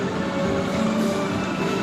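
KA Airlangga economy train with new-generation stainless steel carriages at Brebes station: a steady, loud mechanical rumble with a faint tonal hum running throughout, no voices.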